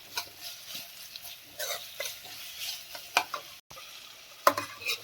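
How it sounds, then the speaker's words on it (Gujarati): Onion and capsicum sautéing over high heat while being stirred constantly, with a soft sizzle broken by intermittent scraping strokes and one brief gap. "આપણું ડુંગળી અને કેપ્સિકમ સરસ શેકાય છે આપણે સતત હલાવતા રહ્યા છે"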